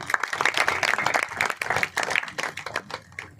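Audience applause at a motivational seminar: dense, steady clapping from a room full of people, loud and close, lasting several seconds without speech.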